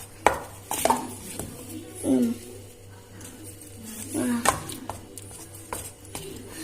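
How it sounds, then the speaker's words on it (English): A spoon works through cake batter in a mixing bowl, giving intermittent scrapes and light clinks against the bowl at moderate, close range, with a few soft voice-like sounds in between. "Now keep on stirring."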